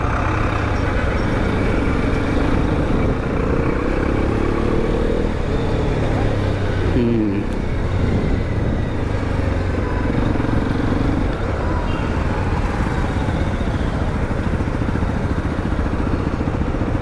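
A Hero Xpulse 210 motorcycle is being ridden, its engine and silencer giving a steady, deep, bassy drone. The sound is mixed with constant wind rush and stays at an even loudness throughout.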